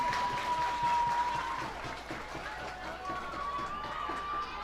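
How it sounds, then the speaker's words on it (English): Crowd at a minor-league baseball game between the Reading Fightin Phils and Harrisburg Senators cheering and applauding steadily as a broad wash of noise, with a high whistle-like tone running through it. "Crowd in attendance showing some love."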